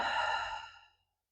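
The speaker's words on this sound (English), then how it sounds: "And a full breath out." Deep exhale through the mouth during a breathing exercise, a single close, breathy sigh about a second long that fades smoothly into silence.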